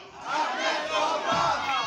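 A crowd cheers and shouts for Ahmad Cobra, a loud, continuous roar of many voices rising and swelling across the whole stretch.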